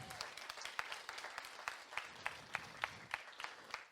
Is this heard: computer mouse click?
no